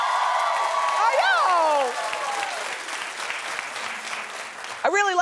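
Studio audience clapping for a host at a daytime talk show, a steady broadband wash of applause running throughout beneath a voice speaking over it.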